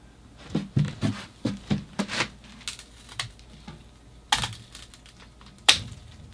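A bonsai tree's top is pruned with a single flat cut, giving a quick series of crisp, close snipping and cracking clicks in uneven bursts, with a couple of sharper snaps near the end.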